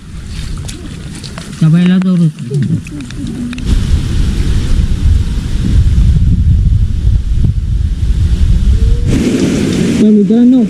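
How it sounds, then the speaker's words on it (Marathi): Heavy monsoon rain roars steadily over rice paddy fields in the Konkan across the whole stretch, with a person talking loudly near the microphone at the start and again at the end. "आता भरपूर पाऊस पडायला लागला"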